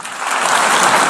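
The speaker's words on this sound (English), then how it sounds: "Listen to the applause." A short burst of dense, loud applause from a large crowd at the United Nations, swelling slightly, with no speech.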